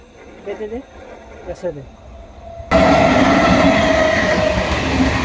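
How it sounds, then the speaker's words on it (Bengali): A train roars past close by, a sudden loud broadband rush that begins midway and stays strong, following a stretch of quieter talking. "পাশ দিয়ে একটা ট্রেন যাচ্ছে, এটা লালগোলা দিকে যাচ্ছে"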